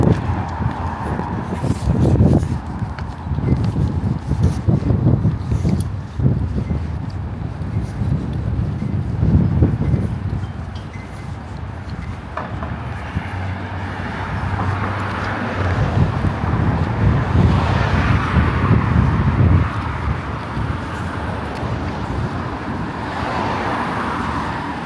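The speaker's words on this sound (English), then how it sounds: "it is super windy right now, so I apologize if the wind is banging around" Strong wind buffets the microphone on an evening city street walk in Toronto's east end, a steady roar and rumble with passing car traffic underneath, lasting throughout.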